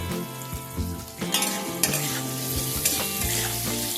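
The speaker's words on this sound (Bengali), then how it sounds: "অল্প কিছু সময় নিয়ে আলুটাকে একটু ভেজে নেব।" Potatoes fry with salt in hot oil, a steady close sizzle broken by several scraping, clattering strokes of a spatula against the pan, with no voices.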